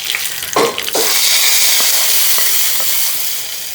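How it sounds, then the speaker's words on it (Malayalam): Mustard seeds tempering in hot oil for a Malayalam taro curry give a loud, continuous sizzle, with a couple of sharp crackling pops near the start and faint spattering ticks afterward. "എണ്ണ ഒഴിച്ചു കൊടുക്കുക. ചെറുതായിട്ടൊരു കടുക് വറ മാത്രം"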